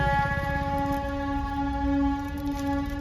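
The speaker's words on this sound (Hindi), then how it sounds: "एक ट्रेन आवत है" A train rumbles steadily close by in a Chhattisgarh village with a sustained tonal horn-like drone over the heavy rolling noise, no voices.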